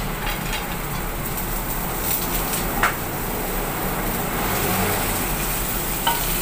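Anchovies and tofu hit frying green chili in a pan and sizzle loudly and steadily, with occasional scraping stirs and a couple of sharp clinks.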